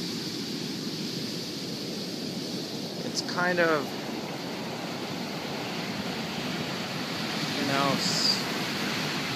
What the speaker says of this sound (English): Oh wow, the wave just came right up on the shore